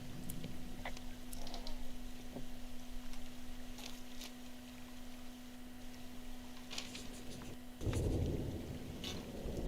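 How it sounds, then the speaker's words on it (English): Rolling thunder in the video game Firewatch, a low distant rumble over steady rain with a steady hum, swelling louder near the end. "Hey, I heard some thunder."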